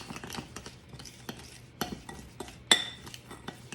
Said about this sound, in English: And I'm going to stir that together.